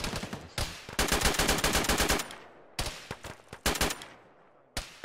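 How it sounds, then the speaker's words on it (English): Rapid automatic gunfire in the Arma military game ShackTac session: a long dense burst followed by shorter bursts and scattered single shots, loud and close with near-silent gaps between. "Now there's people shooting at us"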